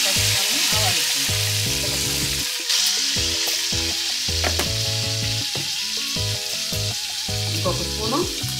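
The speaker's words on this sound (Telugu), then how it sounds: "కొంచెం పచ్చిమిరపకాయలు, ఆవాలు వేసుకుందాం." Green chilies and mustard seeds hit hot oil for a black brinjal chutney, a loud, dense sizzle that carries steadily throughout, with tonal sounds running underneath.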